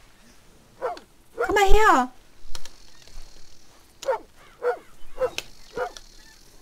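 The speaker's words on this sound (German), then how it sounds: "Labrador Retriever" A Labrador Retriever in Red Dead Redemption gives a series of short, separate barks and yips at close range, spread across the clip, while a man calls out briefly between them.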